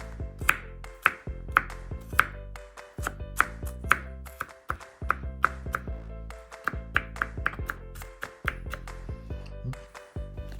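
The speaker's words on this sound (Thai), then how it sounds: "สับกระเทียมให้เป็นชิ้นเล็กๆ ค่ะเดี๋ยวจะลงผัดค่ะ" Garlic chopped into small pieces with a knife on a cutting board, a steady run of sharp close taps in quick bursts with short pauses between them.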